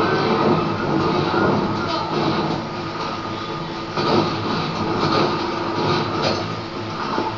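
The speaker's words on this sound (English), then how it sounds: "Oh, the train's over there." A moving train in the Borderlands 2 video game gives a continuous, fairly loud rumbling roar with faint rhythmic clatter that swells and eases slightly over several seconds.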